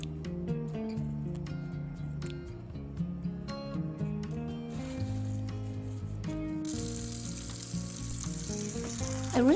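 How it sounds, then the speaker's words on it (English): Raspberry leaves are rinsed under running water, a soft hiss that swells into a steady, louder rush toward the end, heard beneath background music. "So I just rinse them real good"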